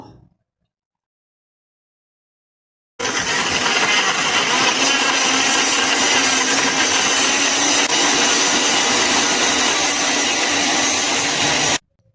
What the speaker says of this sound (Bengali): এখন ভালো করে ব্লেন্ডার করে নেব